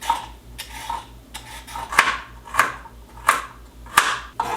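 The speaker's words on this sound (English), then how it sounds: "Chopping is just so satisfying." Knife chopping carrots on a cutting board at home, the blade striking wood in a loose rhythm of about eight sharp knocks, close and fairly loud, with no talk over it.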